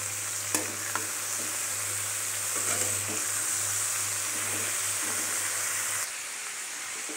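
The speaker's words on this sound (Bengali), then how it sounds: "এই সবজিগুলো একটু তেলে নাড়াচাড়া করে নেব।" Green beans, eggplant, carrot and potato stir-frying in hot oil, a steady close sizzle with occasional scraping stir clicks, easing off near the end.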